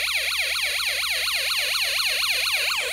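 A Snap Circuits speaker module plays a siren tone that rises and falls rapidly and evenly, steady and loud throughout, with no other sound.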